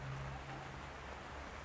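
Rain falls outdoors as a steady, faint hiss of drops, with a low hum under it.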